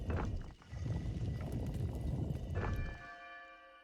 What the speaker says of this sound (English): That rang the bell.